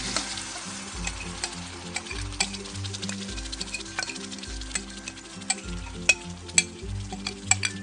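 Korean-style spicy chicken feet stir-fried with soy sauce, a continuous sizzle broken by repeated rhythmic scrapes and clicks of a utensil against the pan, close up with no talking.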